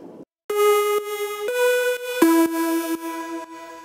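A bright synth lead plays a short melody of sustained notes, each washed in long reverb with about a 3-second decay and echoing delay repeats that trail off into space.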